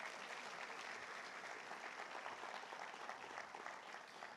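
Faint, distant applause from a church congregation during a Portuguese sermon on fasting, a soft continuous patter of many hands clapping throughout.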